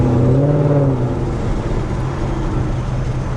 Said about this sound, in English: this car is sounding really, really nice